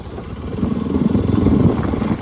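A Bajaj RS200 motorcycle fitted with an Akrapovic exhaust runs close by, giving a loud, throbbing engine note with rapid pulsing pops and crackles that swell and then ease off.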